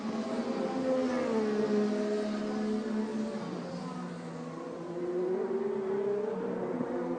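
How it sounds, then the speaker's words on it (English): A Chevrolet IndyCar engine from the 2012 Honda Indy 200 sounds rough and off-tune, droning steadily at a distance with wavering pitch as it passes the booth; no clear speech over it. "you can hear it when it comes by the booth. That is not a good sounding engine."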